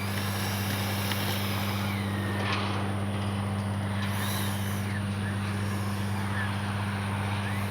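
Freewing 70mm Me 262 RC jet spooling up for takeoff, a steady loud turbine-like whine with strong low hum held constant throughout, close and continuous.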